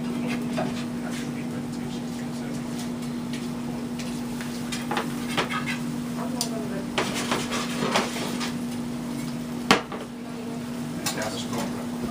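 Seafood sizzling in a pan as it cooks, a steady frying hiss with occasional utensil clinks and scrapes, a background hum and faint talking.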